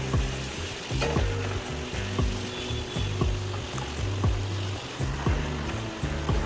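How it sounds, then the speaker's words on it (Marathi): A puri deep-fries in hot oil, bubbling and crackling loudly and continuously up close, with repeated light taps from a utensil turning it. No one speaks. "ही दुसरी पुरी आहे, तीही छान आपण तळून घ्यायची आहे।"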